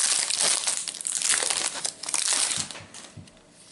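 Crinkly plastic wrapper of a Match Attax 18/19 football card pack being torn open and handled, loud close crackling that runs almost continuously before thinning into a few softer crinkles.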